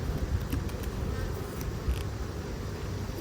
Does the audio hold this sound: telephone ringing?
no